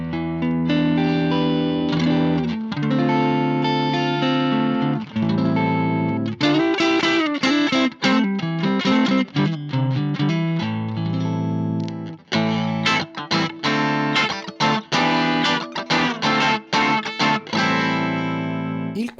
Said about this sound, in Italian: Il terzo è il suono di un amplificatore in tweed molto vecchi.